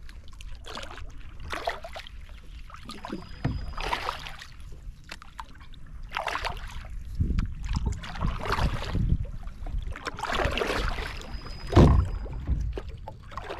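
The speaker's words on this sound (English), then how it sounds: "this boat's paddling a lot better than I expected it to" Rhythmic paddle strokes of a Perception Outlaw 11.5 fishing kayak dip and splash in water every couple of seconds, close by, with soft dripping between strokes and no talking.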